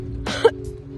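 A single short, close cough, sharp and fairly loud, over a steady low hum.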